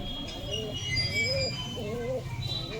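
A pigeon coos in gentle, rolling phrases close by, while a person talks over it at a rural pigeon market.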